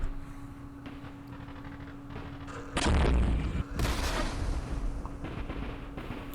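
Mortar rounds in a war strategy game hit with two heavy, close booming blasts about a second apart, each leaving a rumbling tail over a steady low background hum, with no voices.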